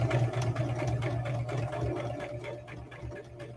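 Sewing machine stitching through fabric for a rag bag, a steady close mechanical whir with a constant low hum, running continuously and easing slightly toward the end as the seam is sewn and back stitched.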